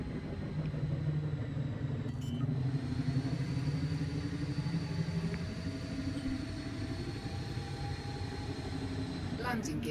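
A video game spaceship's engine hums in a low, steady rumble as it slows smoothly while docking, with a few faint chimes and a voice talking over it throughout.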